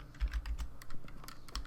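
Quick run of keystrokes on a computer keyboard while entering a Garry's Mod server setup command, crisp close clicks in an uneven rhythm, heard alone.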